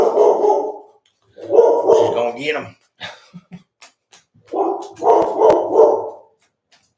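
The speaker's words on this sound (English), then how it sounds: "Sorry about my dog. Somebody's walking by the house." A dog indoors barks in several loud bursts close by at someone walking past the house, with a few short yips in between; a person speaks briefly.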